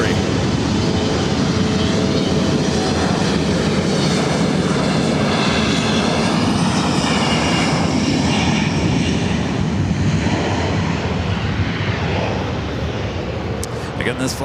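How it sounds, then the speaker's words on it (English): A 22-year-old Boeing 737-700 bound for Phoenix passes at LAX with a loud, sustained jet roar and whining engine tones that sweep gradually in pitch, with a voice talking over it. "Again, this flight heading to Phoenix, Arizona, this 22-year-old 737-700."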